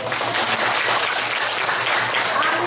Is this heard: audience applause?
yes